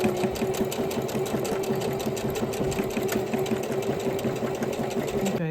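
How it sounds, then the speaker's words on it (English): A sewing machine stitching a hem on a crocheted purse runs steadily at speed, its rapid needle clatter continuous and close, with no talking. "I'm hemming it on the sewing machine."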